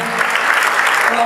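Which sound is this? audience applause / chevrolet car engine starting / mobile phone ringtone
audience applause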